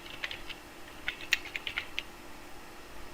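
Computer keyboard typing while filling in name fields on an online account form, a handful of crisp close keystrokes in a short irregular run, fairly quiet over a steady hiss.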